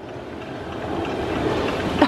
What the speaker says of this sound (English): There's a single rider on the crocodile coaster.